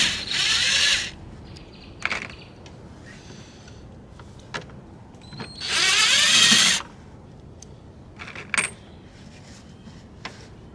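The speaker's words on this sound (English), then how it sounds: "The drill in reverse." A power drill running in reverse to remove bolts whirs in a few short bursts, two longer runs and several brief taps, with quiet pauses between.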